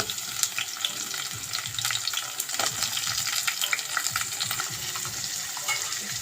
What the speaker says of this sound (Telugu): ఇలా వేగిన దాంట్లో మునక్కాయ ముక్కలు వేసుకోవాలండి